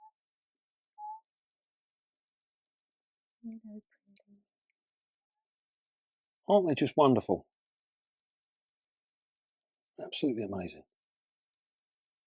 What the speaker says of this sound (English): Now that noise you can hear is them calling.